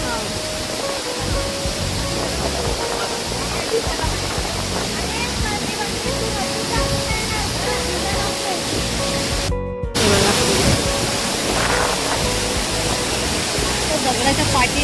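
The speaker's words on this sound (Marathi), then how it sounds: "हा खूप मोठा असा फोर्सने येणारा धबधबा आहे." Large, forceful monsoon waterfall roaring continuously nearby as a dense, loud rush of water, with faint background voices of a crowd of visitors.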